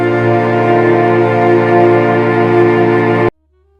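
Windows 2000 startup chime rebuilt in FL Studio with a string section, a loud sustained chord of layered tones holding steady for about three seconds before cutting off abruptly into silence.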